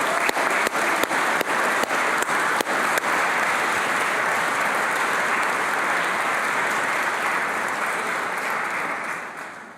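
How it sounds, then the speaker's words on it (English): Audience at a Leysin American School graduation ceremony applauding for the teachers, a broad sustained wash of clapping in a large hall, with a few sharp nearby claps early on and a slow fade at the end. "Let us give your teachers a big round of applause and appreciation of their support."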